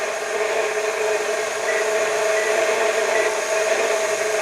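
A medium-size KitchenAid stand mixer kneads bread dough for sandwich buns, giving off a loud, steady motor whir and grinding drone that runs unbroken from start to finish.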